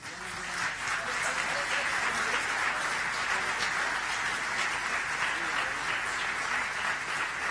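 Audience at a geoinformation forum applauds, a sustained mass of clapping that swells quickly and stays steady and moderately distant throughout.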